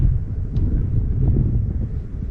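Wind blowing outdoors near beehives being set up, a steady low rumbling buffet across the microphone throughout, with no other clear sounds.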